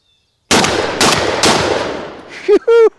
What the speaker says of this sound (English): go let 3 turkey loads fly out of your gun all at the same time